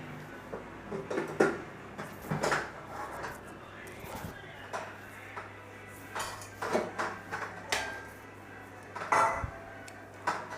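Cooked yam masiyal being spooned from a pan into another bowl, with intermittent clinks and scrapes of utensils against cookware, soft and close, with quiet gaps between the knocks.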